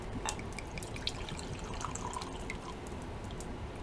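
A drink pours from a freshly opened can, a steady trickling splash with scattered droplet ticks running continuously at moderate level, no voices.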